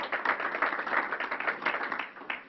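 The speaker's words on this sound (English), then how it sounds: "Let's give him a round of applause." Applause from the audience at a state COVID briefing, a few seconds of scattered, fairly light clapping from a small crowd in a room, no talk over it.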